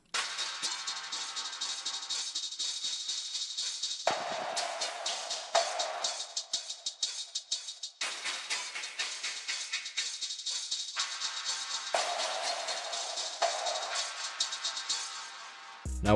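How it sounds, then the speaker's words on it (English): A percussion loop in an FL Studio rave-style beat, stretched to double length and pitched down, rattles along in dense, gritty repeating hits with a brief dip every four seconds, playing alone and stopping sharply at the end. "Now last but not least, we have a percussion loop"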